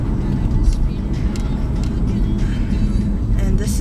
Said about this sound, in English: This is the traffic we have to deal with on a regular basis, mind you.